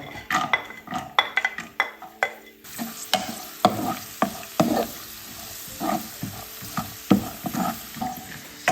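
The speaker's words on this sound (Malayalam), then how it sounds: "നെയ്യ് ചൂടായി കഴിയുമ്പോഴത്തേക്ക് അതിലേക്ക് കാഷ്യൂവും മുന്തിരി ഇടുക" Cashews and raisins fry in hot ghee for rava laddu, with a broad sizzle rising partway through under repeated close clinks and scrapes of a spoon stirring in the pan.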